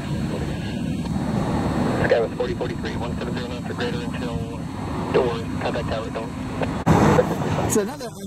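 A Frontier airliner, flight 9280 inbound from Philadelphia, arrives on a snowy day with a low jet rumble running steadily beneath continuous nearby talk.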